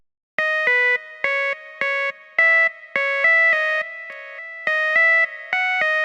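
Bright synth notes in a short repeating pattern, each one trailing into echoing repeats and a wash of reverb.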